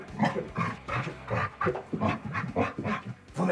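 A docile trained dog pants in quick, rhythmic breaths, close and fairly loud, with a few soft whimpering tones between the puffs.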